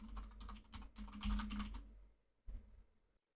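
Quick bursts of computer keyboard typing as a name is entered, close and clear, with a short pause and a final keystroke near the end over a low hum.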